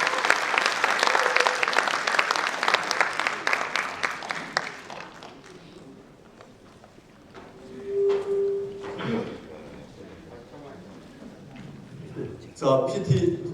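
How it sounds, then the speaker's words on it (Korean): Seminar attendees give a warm round of applause to welcome a Rotary training speaker, loud clapping for about five seconds that fades away, followed by quieter room sounds and brief speech. "큰 박수로 환영해 주시기 바랍니다."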